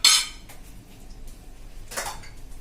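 A lid is set over a bowl of curd made from skimmed cow's milk, giving two brief metallic clinks about two seconds apart, with quiet room sound between them and no talking.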